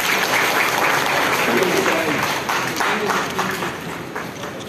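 Sustained applause from an audience at a ceremony honouring journalists on Devarshi Narad Jayanti, dense and steady throughout, easing slightly toward the end.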